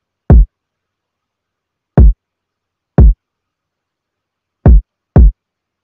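Five punchy kick drum hits from an FL Studio beat, dry and isolated with silence between them, spaced unevenly with the last two close together.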